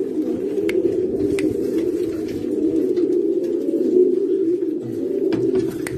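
Pigeons coo continuously, close and low, in overlapping rolling calls with a few light knocks and rustles in the background.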